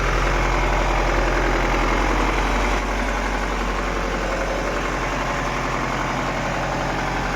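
A used Iveco truck's engine runs loud and close with a broken throttle cable, holding a heavy, steady drone that drops slightly partway through and then carries on.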